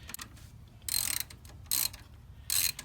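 A ratchet on a long socket extension loosens a bolt on a VW Beetle, giving quiet, close clicking bursts in three separate spells, each a rapid run of pawl ticks.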